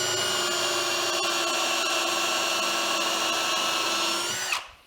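A power drill spins steadily while countersinking holes in sawhorse top pieces, a loud, even high-pitched whine holding for several seconds before the motor cuts off and winds down abruptly.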